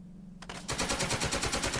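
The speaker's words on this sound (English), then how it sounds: "And you get shot to pieces." Gunfire hits troops in the video game Second Front, a burst of rapid machine-gun shots that erupts after a brief hum and continues as a dense, loud rattling volley, no talk.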